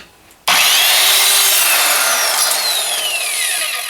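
An Evolution R185 7-1/4 inch sliding miter saw spins up and slices through wood, one sudden loud whining cut that starts after a brief quiet moment and holds steady, close up with no speech.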